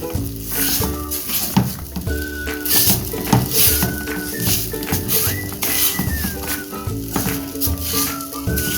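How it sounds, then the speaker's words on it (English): Ugali cooking in a pan with a little olive oil, giving a loud, continuous close sizzle broken by repeated stirring scrapes and knocks against the pot. "So just add some olive oil kidogo, then just continue cooking your ugali."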